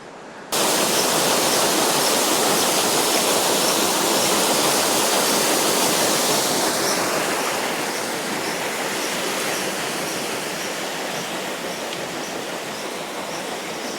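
Water rushing past a water wheel at Cromford Mills, a loud, dense, continuous roar that starts abruptly and holds steady, easing slightly in the second half, with no voices.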